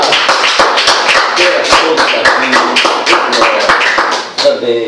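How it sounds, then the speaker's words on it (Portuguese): A church congregation claps loudly and rhythmically in a steady beat, close and energetic, with voices mixed in underneath. "Quantos podem aplaudir a Deus com o coração?"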